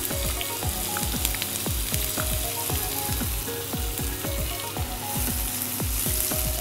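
Two small finely chopped onions frying in four tablespoons of hot oil in a pan for paneer masala, a steady loud sizzle with a regular scraping stir, close and continuous with no talk.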